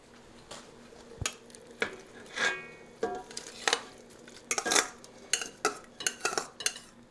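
Wide noodles tipped into a pot of chicken soup, with scattered clinks, scrapes and soft splashy bursts of utensils and pot, moderately close and fairly quiet.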